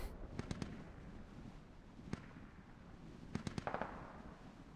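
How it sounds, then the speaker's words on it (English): An artillery barrage in the Squad Ops military shooter lands as faint, distant cracks and thuds, single hits and quick clusters of several, over a low steady rumble. "The artillery has begun."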